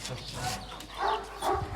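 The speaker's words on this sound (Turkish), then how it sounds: "köpek var" A dog barks a few times in short bursts, fairly close, mixed in with people talking over a steady background hum.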